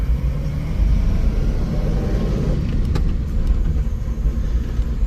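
A 1965 Dodge Dart GT with a factory 4-speed and dual Holley carburetors drives along, its engine rumbling steadily and loudly from inside the car with no one talking.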